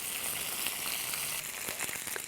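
Chicken searing in a hot pan gives a steady, close, bright sizzle and crackle with no talk over it.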